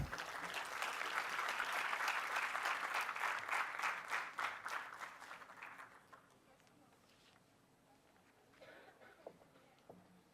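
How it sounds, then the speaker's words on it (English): Audience applause in a university auditorium welcoming an invited advocate to the stage, a steady loud clapping crowd that thins out and fades after about six seconds, leaving scattered claps and room noise. "It would be a huge honor for us to welcome him with a huge round of applause."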